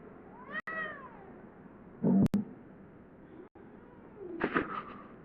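A cat meows twice, a drawn-out wavering call near the start and a shorter one near the end, with a sharp knock and a brief clatter in between.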